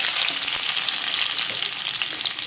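Fenugreek, fennel, onion and vadagam fry in hot sesame oil in a kadai for vanjaram fish kuzhambu, a loud, close, continuous sizzle with no talking.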